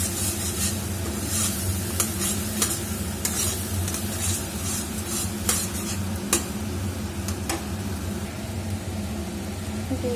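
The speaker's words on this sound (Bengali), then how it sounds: "অল্প পরিমাণ নুন দিয়ে আবার নাড়িয়ে নেব" Vegetables get stirred with salt in a pan for simer bhorta, the steady sizzle of frying running throughout while a spoon scrapes and clacks against the pan in irregular strokes, close and without talk.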